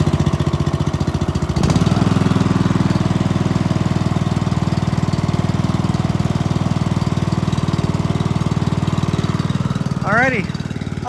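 A tow-behind brush mower's small engine idles low and steady in the open, a loud continuous chugging drone that carries on for the whole stretch, with a faint high chirp near the end.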